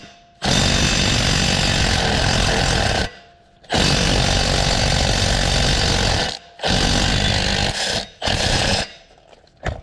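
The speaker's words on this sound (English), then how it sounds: "I've got my little Milwaukee Impact shoved up here" A Milwaukee impact wrench with a wobble extension and 15mm socket hammers loudly on torque converter bolts in several long bursts of rapid rattling, separated by short pauses, close up and alone.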